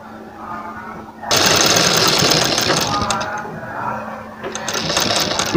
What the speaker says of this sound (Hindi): इसी प्रकार हमें अपनी दूसरी बाजू को यहाँ बिछा देना है और इसी प्रकार इस पर सिलाई लगा